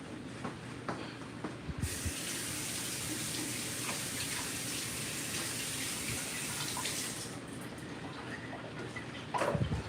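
A coconut rinsed under a running kitchen tap, a steady close rush and hiss of water with small knocks and splashes as it is turned, continuous for several seconds with no talking.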